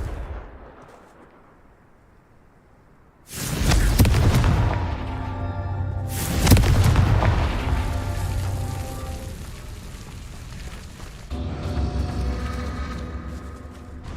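In the Hogwarts Legacy video game, a Confringo spell sets off two loud booming explosions a few seconds apart, each followed by a long rumbling decay, with a third lighter impact near the end.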